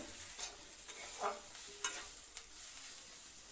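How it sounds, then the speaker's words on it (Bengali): Ginger paste, chili powder, cumin, green chilies and bay leaf fry quietly in a pan, a low steady sizzle broken by a few distinct scraping stirs of the spoon. "ভালো করে মশলাটার ভালো করে ভাজা করতে লাগবো"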